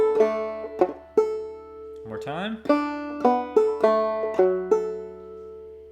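A clawhammer banjo plays the first full measure of Briarpicker Brown in a string of bright plucked notes, broken midway by a brief spoken phrase, over a low steady hum.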